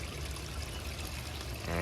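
Water tumbling over a log in a small waterfall of a backyard DIY pond, a steady close pouring and trickling wash with no talk, growing slightly louder toward the end.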